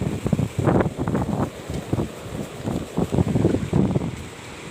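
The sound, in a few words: strong wind and rain at stormy sea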